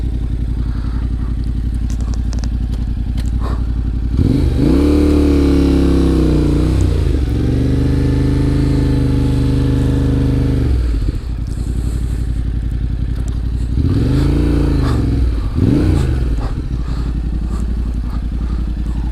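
A Yamaha Ténéré 700 motorcycle engine runs nearby, idling steadily and then revving up in two distinct swells before settling back, loud and close with no talk.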